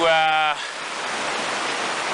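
A river running fast at a crossing point, a broad, steady rush of water close by that continues without a break. A short voice-like tonal sound is heard at the start.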